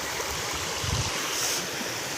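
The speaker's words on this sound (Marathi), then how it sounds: "त्याच्यातून पाणी डायरेक्ट मधून पाणी निघत आहे" Water pours out through a large, roughly ten-to-fifteen-foot earthen field embankment after a cloudburst, a steady broadband rushing flow heard close and loud without talk.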